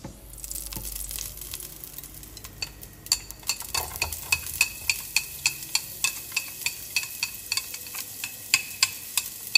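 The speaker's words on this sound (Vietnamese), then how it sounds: "Ta phi thơm hành, tỏi, gừng lên" Chopped onion, garlic and ginger frying in a little oil in a pan, a quiet sizzle under steady rhythmic scraping and tapping of the stirring utensil, repeated clicks over several seconds with no talk.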